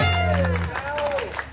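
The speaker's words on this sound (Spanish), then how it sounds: "Y el aplauso para ella, que se escuche" Audience applause and cheering for a birthday girl at a youth mariachi performance, following a sustained instrumental note that ends early, with a voice over the clapping.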